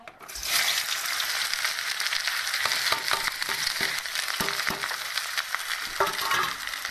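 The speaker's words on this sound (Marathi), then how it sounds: "आता मस्त तेल कडक गरम झालेलं आहे आता मी कांदा आणि लसण टाकून घेते" Onion and garlic hit hot oil in a pan and sizzle loudly and steadily, with occasional crackles and soft stirring scrapes throughout.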